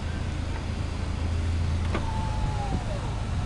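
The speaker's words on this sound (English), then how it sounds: "All the windows work, mirrors adjust for both sides." A 2001 Honda Prelude's electric power window motor whirs steadily in a quiet car interior, a faint close hum that rises and then tapers off near the end, with no talking.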